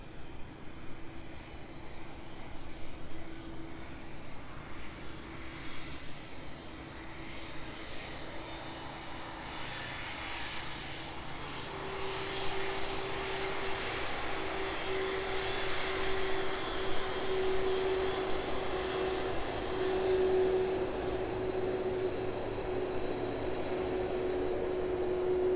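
A brand-new Boeing 777F cargo jet arrives at East Midlands Airport, its engine roar steady and distant at first, then swelling louder with a rising whine as it comes down the runway, with no voices.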